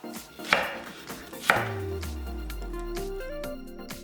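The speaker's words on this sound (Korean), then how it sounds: "양파 반개는 큼직하게 잘라주고" A knife chops half an onion into large chunks on a cutting board, two sharp, loud knocks about a second apart, followed by a low rumbling hum underneath.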